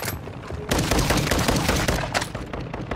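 A player's gun firing in a shooter video game, loud close shots in a fast irregular stream, with a sharp opening report followed by sustained rattling fire.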